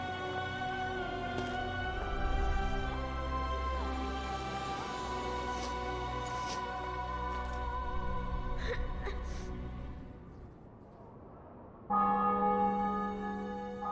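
Church bells ring out in The Witcher 2 video game to mark a city and fortress being taken, sustained and resonant tones that thin out briefly before striking up again near the end, with no talk over them.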